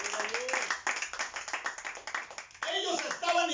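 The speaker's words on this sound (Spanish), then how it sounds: "Dale un aplauso al Señor." Church congregation clapping during a Spanish-language service, rhythmic hand claps mixed with voices and someone speaking, moderately close, with a louder burst of sound near the end.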